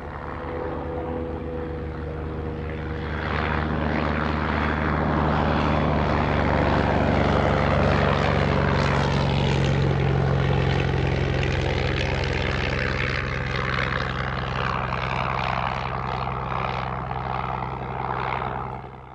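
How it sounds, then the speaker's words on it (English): LVG C6, a WWI German two-seater observation and light bombing biplane, flying at a Shuttleworth Collection display: a steady, loud propeller-engine drone that swells as the aircraft passes close and then fades slightly, with no voices. "The LVG C6 was used extensively by the Imperial German Air Force for observation and light bombing."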